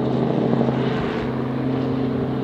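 A steady, droning helicopter engine hum with a low rhythmic throb, passing at a moderate distance during the 2021 WRC rally in Ypres.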